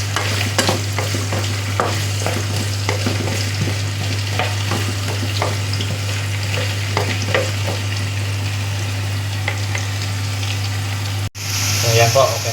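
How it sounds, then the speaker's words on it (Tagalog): Carrots for beef kaldereta are stirred in a sizzling pan, with a constant frying hiss, repeated scraping stirs and a steady low hum from a nearby appliance. "Halo-haloy lang po hanggang sa lumambot ang ating carrots."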